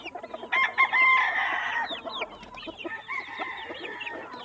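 Several five-month-old stags crowing in rough, broken, upward-bending calls over busy clucking, close and fairly loud, with overlapping birds and no talk.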